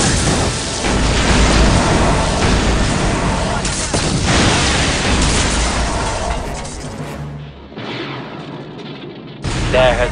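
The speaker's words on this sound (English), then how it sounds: "There has been an explosion at the main behavior core." An explosion tears through the main behavior core in Star Wars: Knights of the Old Republic. Heavy, loud booms and crackling blasts come first, then fade into lower rumbling before a final burst.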